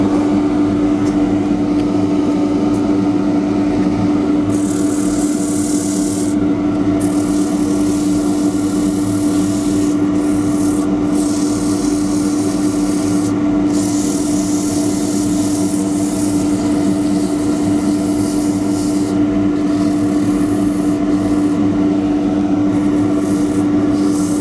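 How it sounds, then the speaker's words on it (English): A wooden bowl spinning on a lathe while being sanded with 180 grit paper gives a steady, close whirring hum with a continuous rubbing hiss that comes and goes in intermittent strokes. "Right, now this will be the outside, so I can just sand all that."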